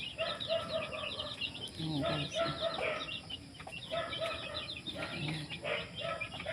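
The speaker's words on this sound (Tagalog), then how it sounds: "mayroon pang mga inahin." Hens clucking in a backyard flock, a steady overlapping chorus of nearby clucks with occasional louder calls, while someone speaks briefly over them.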